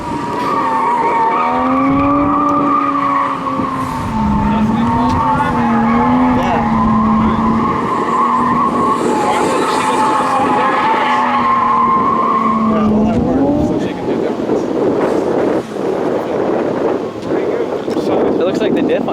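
A car with a 1JZ engine swap drifting, tires squealing in long wavering howls over a loud engine drone, close and continuous, then the squeal breaks off into rough engine and wind noise; voices talk at times.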